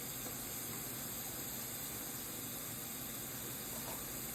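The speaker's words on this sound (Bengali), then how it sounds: "আমি প্রথমত একটু তেলের মধ্যে পেঁয়াজটা একটু ভেজে নিচ্ছি" Onion frying in hot oil in a pan, a steady dense sizzling hiss filling the short stretch, close and unbroken, with no voices.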